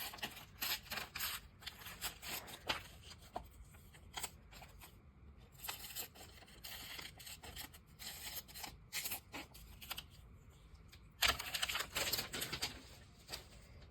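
Scissors cutting a paper picture for a gluebook, close crisp snipping and rustling paper in irregular bursts with short pauses between.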